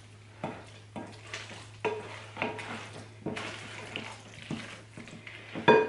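Tuna noodle casserole mixture stirred in a bowl with a utensil, giving a rhythmic series of soft, wet scraping strokes about once a second, close by over a low steady hum, with no talking.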